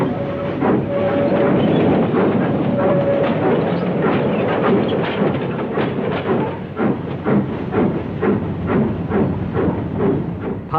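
The City of Truro, a steam locomotive, runs an excursion, giving a steady loud rumble with regular rhythmic clatter and chuffing beats that quicken over the stretch, with a brief whistle-like tone near the start.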